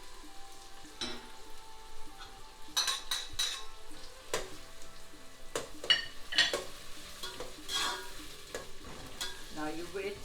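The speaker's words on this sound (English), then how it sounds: "So keep browning the onions." Onions browning in a pan with dry spices and green chilies for a chickpea chola, giving a faint, steady sizzle with scattered close stirring and scraping clatters.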